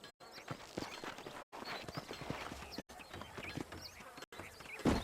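Horse hooves clip-clop in the Western video game Red Dead Redemption on Xbox Series X, a steady walking rhythm of hoofbeats cut by brief silent gaps, with faint birds behind.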